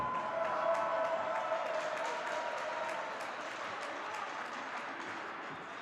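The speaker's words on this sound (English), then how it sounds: "a big round of applause for Team Howe MVP" Crowd applause at an amateur ice hockey fantasy camp championship game, honoring the MVP goaltender: a sustained wash of clapping from a medium-sized audience, strongest at the start and easing slightly, with an announcer's voice over it early on.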